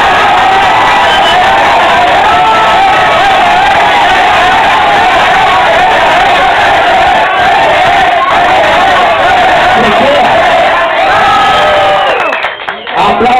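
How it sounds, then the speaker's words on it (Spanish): Prolonged roaring cheers, whoops and shouts from a large crowd applauding a costume contestant at a Halloween event in Duitama, Boyacá, continuous and loud before thinning out at the very end. "Aplausos por la vampireta."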